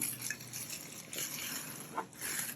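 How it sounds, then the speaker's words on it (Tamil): Hot water pours and trickles into an insulated steel flask, a faint, close, continuous liquid splashing with small gurgles and bubbling. "நல்ல சூடாக இருக்கும் தண்ணி இதில் ஊற்றினா."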